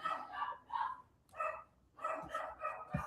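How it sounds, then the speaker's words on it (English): A dog barks in a quick string of sharp, moderately distant woofs, heard faintly in the background of a room during an online conversation. "You guys can't hear my dog barking"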